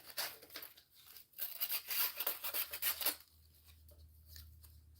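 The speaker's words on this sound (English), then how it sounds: "so let's cut off the extra" Scissors cut off excess craft material with crisp snipping and crinkling strokes in a quick run, then the sound drops to a quieter rustle; close and fairly soft, with no talk.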